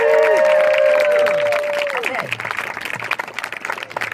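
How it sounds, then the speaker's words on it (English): Applause from a crowd at a live radio show recording during the ACTFL 2015 convention swells under a sustained musical tone, then continues as a dense, even clatter of many hands with some cheering. "so give a big, big round of applause"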